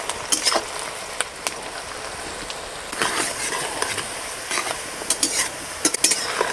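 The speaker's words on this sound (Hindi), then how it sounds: "ये ज़रूरी होता है कि प्याज अच्छे से भुंजाए" Onions fry in a pan for desi chicken curry, a steady soft sizzle near the mic broken by repeated scraping stirs and light clinks of the spoon against the metal.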